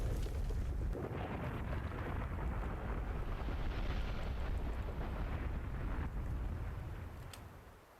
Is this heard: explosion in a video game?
yes